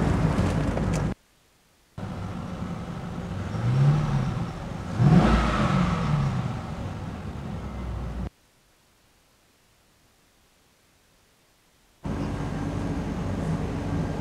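A 2002 C5 Corvette with an LS1 V8, just repaired after valley gasket and oil pressure sensor replacement, idling nearby with a smooth rumble, one brief rev swelling and falling, then cutting out into silence before the engine sound returns.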